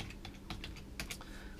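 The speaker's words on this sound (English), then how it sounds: "I'll do a little typing here." Rapid keystrokes on a computer keyboard, a quick uneven run of clicks, close and fairly quiet, with no voices.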